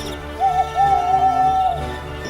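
A single drawn-out hoot, steady and hollow, rising briefly at the start and then holding, with a low background hum; it sounds like a person imitating an owl.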